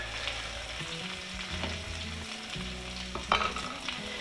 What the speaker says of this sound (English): make sure that they cook really well on one side, then flip them over and cook them until they're about a golden brown